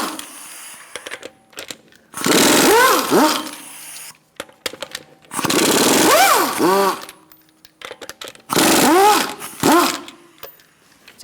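Power tool spinning off lug nuts with a 19mm socket on a Buick Encore, three loud close bursts of whirring impact rattle, each about two seconds long, separated by quieter gaps.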